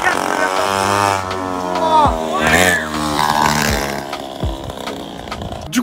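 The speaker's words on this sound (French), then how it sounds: "Du coup, Bilal, t'as pu tester la moto, qu'est-ce que t'en penses, frérot?" A cheap Chinese motocross bike bought online runs loud and close, its engine revving and dropping in pitch with a buzzy, chainsaw-like whine, while voices talk over it.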